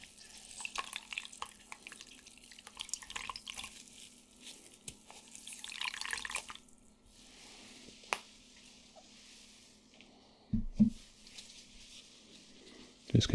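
Plain water dripping and trickling softly while wounds are cleaned, close scattered drips and faint splashes against quiet background.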